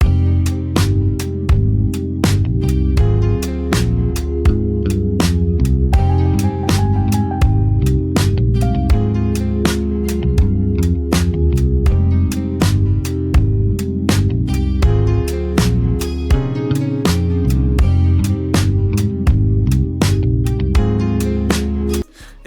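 A soul-sample beat made in FL Studio plays loud and steady, with punchy drum hits on a regular groove under warm looping chords and a brief higher melodic phrase.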